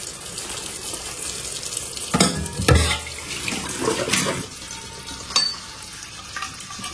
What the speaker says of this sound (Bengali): প্রত্যেকটা পার্টসগুলোকে ভালো করে ধুয়ে নেবে আফটার কুকিং।